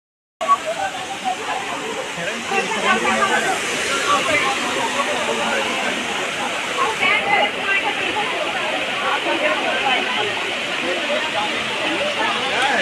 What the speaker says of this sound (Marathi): आम्ही भुशी डॅमला पाऊस येत इकडे पाणी